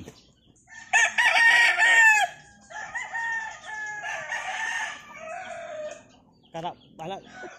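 A Boston Roundhead bullstag gamecock crows loudly and close by, one long crow followed by a second, shakier call, then short clucks near the end.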